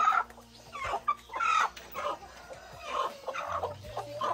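Chickens cluck in a farmyard near their nests, with repeated short, close clucks and calls in an uneven rhythm running through the whole stretch with no talking.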